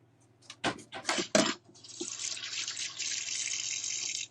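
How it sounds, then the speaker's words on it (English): Kitchen tap running at a sink while hands are washed after handling raw pork steaks, a few clattering knocks first, then a steady, fairly close hiss of flowing water. "Wash my hands."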